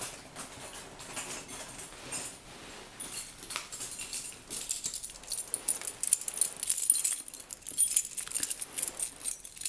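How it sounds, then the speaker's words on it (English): A bunch of keys jangles and clinks close by in a quiet indoor setting during an estate agent roleplay, with soft rattling at first that grows into louder, busier metallic shaking toward the end. "So I'll just get the keys."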